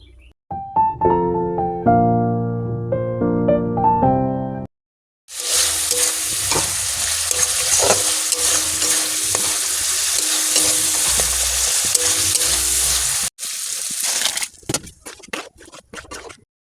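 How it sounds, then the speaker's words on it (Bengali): After a few seconds of tuneful music, a curry bubbles and fries loudly in a pan, a dense continuous sizzle with stirring scrapes that cuts off near the end and gives way to scattered clatter. "তরকারি তো ফুটছে"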